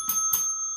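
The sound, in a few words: bell sound effect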